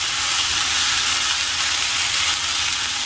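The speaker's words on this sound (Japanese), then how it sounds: "この音でサッと炒める。" Bean sprouts stir-fried in oil over high heat give a loud, steady sizzle with a dense hiss that holds evenly throughout, close up and without any talk.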